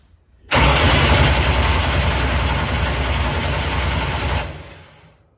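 A billet 500 cubic inch small-block Chevy engine cranks and fires, then runs loud and rough at a steady idle for about four seconds before shutting off and fading out.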